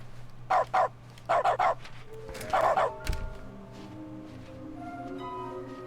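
A dog in The Stanley Parable: Ultra Deluxe barks in short, close clusters of two and three, followed by sustained electronic tones.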